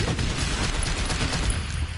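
A steady, dense roar of machine gun fire from four gunners in a PS4 shooter game, continuous and loud for the whole stretch, with no pauses between shots.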